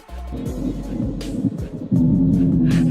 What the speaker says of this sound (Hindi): जमीन के अंदर होने के बावजूद भी हमें बाहर आवाज सुनाई दे रही है